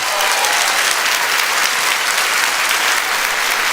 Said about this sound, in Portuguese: Depois de um forte aplauso.